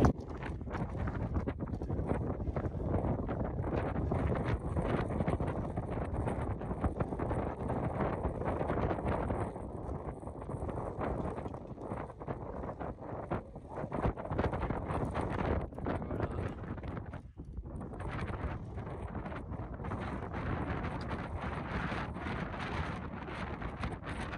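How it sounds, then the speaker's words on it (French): Strong gusty wind at a high mountain pass on the Swiss–Italian border, buffeting the microphone in a continuous loud roar for the whole stretch, with no talking. "Voilà, un vent à décorner les bœufs."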